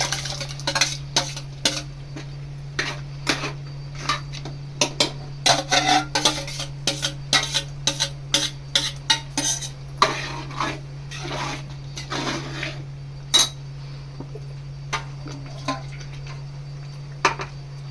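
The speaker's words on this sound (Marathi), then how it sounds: "आता हे जे बटाटा वाटाणा आणि शिमला मिरची येते त्याच्यामध्ये टाक." A utensil repeatedly scrapes and clinks against a pan as potatoes, peas and capsicum are stirred into pav bhaji masala, an irregular run of close metallic strokes over a steady low hum, thinning out toward the end.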